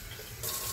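Tap water splashes into and rinses a coffee maker pot, starting as a softer trickle and swelling into a brighter, fuller gush, close by and alone.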